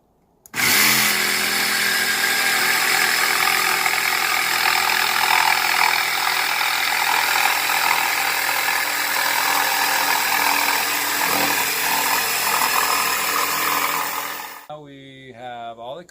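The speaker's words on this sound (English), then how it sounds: "All the cuts done with the jigsaw, the radius" A jigsaw cuts a curved radius into a concrete countertop form board, a loud, close, continuous buzzing rasp held for about fourteen seconds before it winds down and stops.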